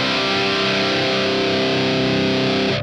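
A thick, sustained wall of distorted electric guitar through a Bad Cat Lynx 50 tube amp model on its distortion channel, loud and steady with heavy saturation, ringing for a few seconds before cutting off abruptly.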